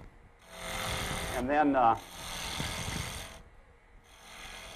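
A bowl gouge cuts into wood spinning on a lathe, making a rough rasping scrape in sustained passes with short pauses, close by, while someone speaks briefly over it.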